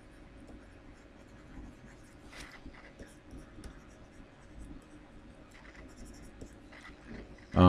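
A pencil scratches lightly across paper in a quick sketch, with soft, irregular strokes that stay faint and close throughout and end with a sudden louder bump.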